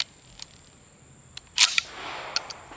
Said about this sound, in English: So we're going to push our little bolt release.